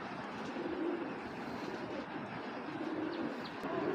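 Kobra Batti racing pigeons coo softly and continuously against a steady hiss of background noise, faint and somewhat distant.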